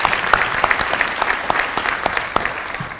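Loud, close applause from an audience at an alumni hall of fame ceremony, crisp individual claps packed together and sustained throughout.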